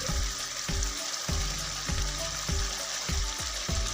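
Potatoes go into a hot pan for shahi dum aloo and fry with a steady, moderate sizzle, broken by a series of regular low thumps or stirring knocks roughly every half second.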